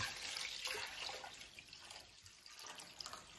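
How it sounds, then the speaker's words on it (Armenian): Cold water runs and splashes into a pot, a soft continuous gush with faint drips, close by and quiet, with no talking. "Սառը ջուր ենք լցնում,"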